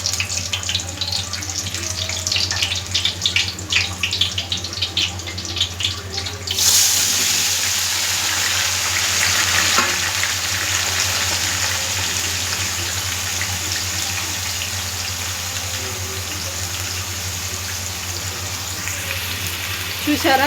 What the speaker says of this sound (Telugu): ఇప్పుడు ఇది నూనెలో వేసేస్తాను.